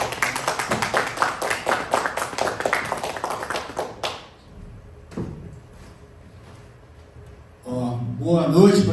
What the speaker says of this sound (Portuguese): A salva de palmas, gente.